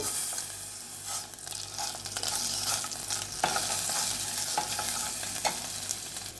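Onion and ginger garlic paste frying in a pan, a steady close sizzle with bursts of stirring and scraping throughout, no voices over it.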